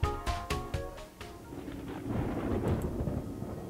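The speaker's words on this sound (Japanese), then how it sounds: "今度は雷かもしれない" Thunder rumbles through the video game Amnesia Memories, a few sharp cracks up front giving way to a broad, steady roll of thunder with rain-like noise, fairly loud and with no talking.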